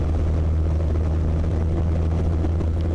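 Zenith CH200 light aircraft in flight, a loud, steady propeller engine drone with a low throbbing hum heard from inside, continuous and unvaried.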